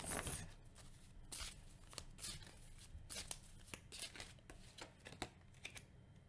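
Tarot cards shuffled and handled close by, a faint run of quick papery riffles, flicks and slides in uneven bursts, with soft room noise between them.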